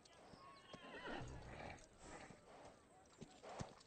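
Horse neighs and whinnies with hooves clip-clopping in an animated film scene about an untamed stallion, the calls loud and close over music and background sounds, with some speech mixed in.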